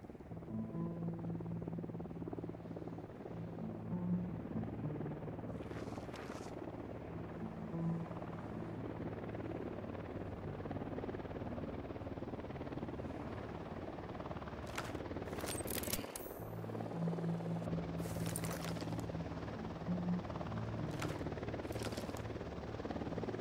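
Helicopter in Ghost Recon Wildlands drawing near with a steady, loud rotor drone that fills the scene, while sharp game effects and distant gunfire-like bursts break in now and then.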